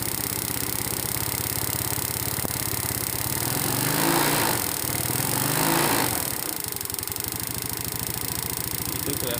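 A car or motorcycle engine idles steadily, then revs up twice as the throttle opens around the middle, the pitch rising and falling, before settling back to a rumbling idle.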